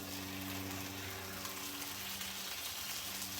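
A quesadilla pressed onto the hot side of a Blackstone griddle gives a steady, faint sizzling hiss that holds evenly throughout, over a low background hum, with no talk.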